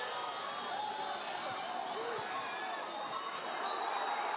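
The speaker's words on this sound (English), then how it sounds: "The crowd asking for the whistle now." A football stadium crowd at a Concacaf Central American Cup match between Cartaginés and Universitario in Cartago, a dense distant roar of fans whistling and calling for the final whistle, steady and sustained.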